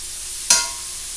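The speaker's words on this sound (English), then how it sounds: "Then I'm going to put those shrimp in there, right in there with it." Shrimp dropped into a hot pan for a shrimp perlo, a sudden loud hiss of sizzling that bursts up and then settles into a quieter steady frying under a faint background hum.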